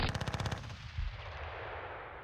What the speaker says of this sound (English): Right, machine gunners here. Just fire at these guys.